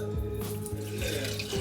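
Water runs steadily from a kitchen tap while rasam is being cooked during a winter power outage. It is a continuous, fairly quiet stream with a constant hum in the background and no talking.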